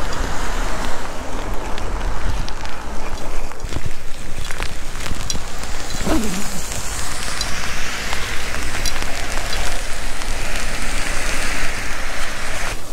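Heavy downpour in a city street, steady dense hiss of rain hitting surfaces, loud and close, with faint passing traffic underneath.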